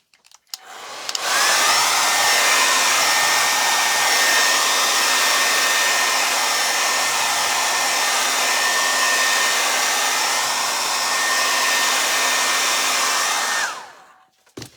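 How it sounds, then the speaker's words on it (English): Blow dryer whirring on a stencil craft project, a loud steady high-pitched blowing that switches on, runs unbroken for about twelve seconds with slight pitch wavering, then cuts off, no talking. "first I'm gonna hit this with a blow dryer"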